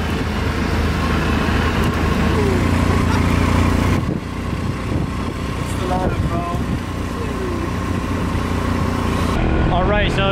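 A rented motorbike rides along roads on Siargao island in the Philippines, its engine droning steadily and close under constant wind and traffic noise, with a voice talking over it.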